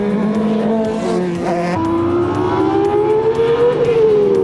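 A 1992 Footwork Arrows Formula One car with a Judd V10 engine screams at high revs on a racing circuit, loud and close, dropping pitch on a gear change and then climbing steadily again.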